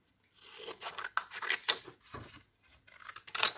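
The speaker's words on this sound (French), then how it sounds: "Donc là, pareil, je viens découper." Scissors snipping through paper while cutting out pieces of a sock shape for a craft, a close, irregular series of crisp cuts with short pauses and no talking.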